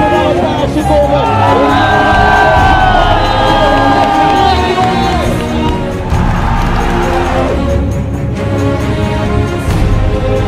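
A large cycling crowd in Utrecht roars and cheers continuously at high volume, with shrill whoops and shouts rising above the dense, sustained din and a commentator's voice partly audible underneath.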